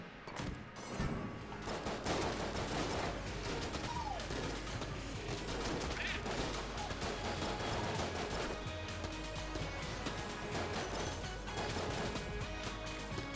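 Dense, continuous bursts of gunfire and explosions from the video game Enter the Gungeon keep up a loud, crackling barrage of shots and crashes without a break.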